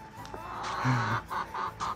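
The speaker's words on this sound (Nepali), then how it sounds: "कुखुरा करायो के फेरि" A chicken clucks close by, a few short, throaty calls in quick succession with a brief pause between them.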